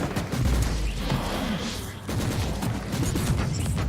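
Autogun shots in Warhammer 40,000: Inquisitor - Martyr, a loud continuous barrage of rapid gunfire and impacts at close range with a brief dip midway.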